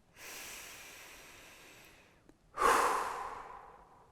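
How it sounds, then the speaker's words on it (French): A single slow, deep breath: a long, soft inhale, a brief pause, then a stronger, breathy exhale, close and alone with no talking. "prenez 3 grandes respirations très profondes."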